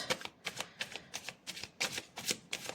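Tarot cards riffled and shuffled in quick bursts, about eight brisk crisp flurries in a steady rhythm, close and clear with no talking.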